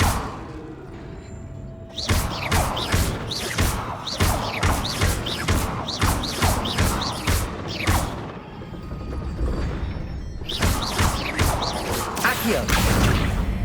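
Casting the Incendio fire spell in Hogwarts Legacy brings a long run of rapid whooshing bursts and thuds, loud and close, with a brief lull before the flurry resumes.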